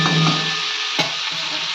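Soybean curry sautéed in a pan, with a loud, close continuous sizzle and a few scraping stirs of a spatula against the metal.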